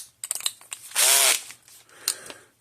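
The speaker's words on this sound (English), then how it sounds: "So let's take these screws out." A power screwdriver backs screws out of a Parmak Magnum 12 electric fence unit, giving a loud whirring burst with ratcheting clicks, framed by a few sharp handling knocks.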